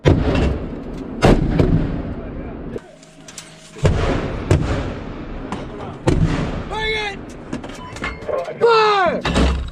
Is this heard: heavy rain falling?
no